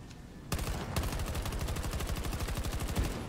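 Sustained full-auto fire from the player's gun in Battlefield 2042: a single shot, then a steady, loud, fast rhythmic burst of evenly spaced cracks lasting about three seconds, close and alone.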